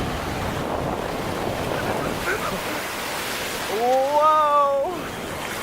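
Ocean surf washes onto the beach at Manuel Antonio, Costa Rica, in a steady broadband roar with wind buffeting the microphone, and a person gives a loud excited exclamation near the end.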